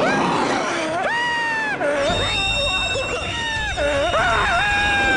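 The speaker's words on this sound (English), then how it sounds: "This is like the best scream they've ever had on this show." A horror TV show scream: a loud, high wailing shriek with rising and falling pitch, repeated in several long cries with wavering tones, some overlapping, filling the whole stretch.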